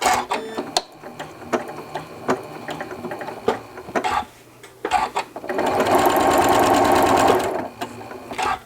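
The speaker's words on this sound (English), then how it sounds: "I start stitching and I'll stitch into the first tuck and then stop" A domestic sewing machine stitches fabric tucks, running in short stop-start bursts at first and then one steady, loud whirring run of several seconds before it stops, with no talking over it.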